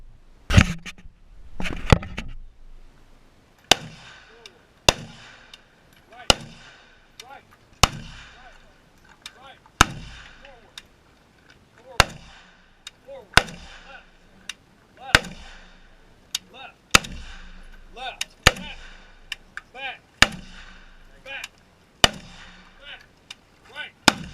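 Rifle shots from an AK or AR type rifle fitted with a PWS FSC 556 muzzle device crack out about twenty times at uneven intervals, each sharp report followed by a short ringing decay.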